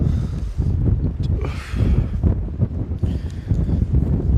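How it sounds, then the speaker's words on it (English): Gusty wind buffets the microphone on a windy day, a loud, uneven rumble that swells and drops in rough bursts. "It's quite a windy day."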